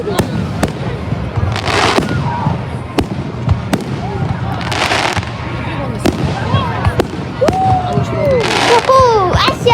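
Fourth of July fireworks burst in repeated sharp cracks and booms with hissing trails, loud and close, while excited voices and kids cheer and chatter throughout.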